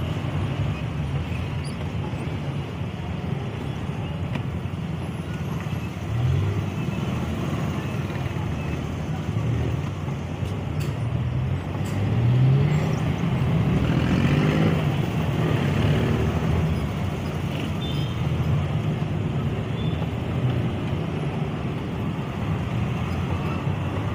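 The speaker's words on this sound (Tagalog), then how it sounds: "Traffic po, traffic." City road traffic on Enrique Street in Davao City, cars and motorcycles passing with a steady rumble, engine drones rising and falling as vehicles move by close, with some talk in the background.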